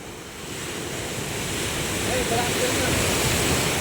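Ocean surf rolls and washes onto a beach where people are swimming, a broad continuous roar that swells gradually louder, with wind buffeting the microphone.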